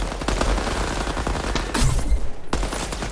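Automatic gunfire in the shooter game Deadrop rattles in dense, rapid bursts, loud and close, with sharp individual shots breaking through the fusillade.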